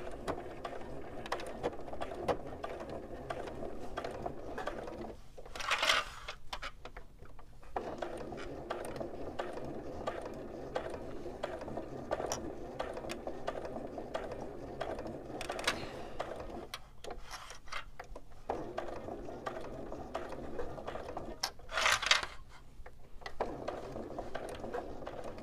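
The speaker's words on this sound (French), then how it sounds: "on peut commencer à coudre, à ne pas oublier faire les avances-reculs" Sewing machine stitching fabric at low level, rapid mechanical clatter in runs broken by short pauses, with a few louder bursts of backstitching.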